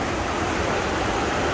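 River rapids beside a small waterfall on a hiking trail, a steady, loud, full-band rush of churning water with no break, close to the listener.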